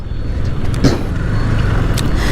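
Busy road traffic in Pondicherry, India, a steady dense rumble of cars and heavier vehicles passing close by, with a brief louder whoosh of one vehicle, continuous throughout with no talking.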